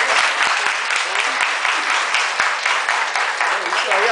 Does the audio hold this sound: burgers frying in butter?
no